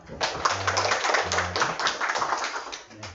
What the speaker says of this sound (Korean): 하나님께 영광 박수 드립니다.